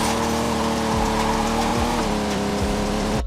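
A car drifting in the Project Drift 2.0 mobile driving game, its engine droning loud and continuous with revving pitch swings and tire squeal throughout.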